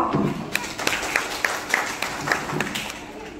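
Assembled guests at a function give a round of applause for the organisers, a dense, ongoing clatter of many hands with a few sharper claps standing out and faint voices mixed in.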